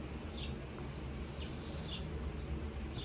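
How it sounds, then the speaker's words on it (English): Birds chirp in a backyard, short high calls repeating every half second or so, faint over a steady low hum from a fan indoors. "birds chirping."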